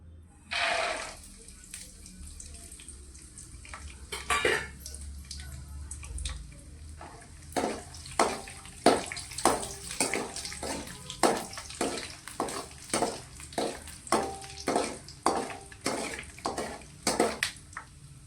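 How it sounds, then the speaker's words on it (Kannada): Peanuts frying in hot oil in a pan, a close crackling sizzle with a run of sharp, rhythmic clicks and scrapes of stirring against the pan, fairly loud, with no talking. "ಈಗ ಎಣ್ಣೆ ಕಾದತ್ರಿ ಅದಕ್ಕೆ ಫಸ್ಟ್ ಶೇಂಗಾ ರೀ"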